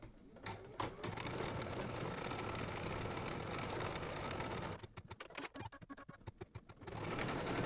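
An embroidery machine stitches eyelets on an in-the-hoop turkey bottle apron with a fast, steady mechanical whir and chatter. Midway it breaks into a few seconds of choppier, uneven ticking, then returns to the continuous hum.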